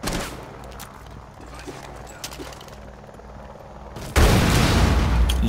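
A flashbang goes off in Rainbow Six Siege on the Bank map, a sudden loud bang near the end that leaves a sustained ringing blast of noise after quieter scattered shots and room ambience.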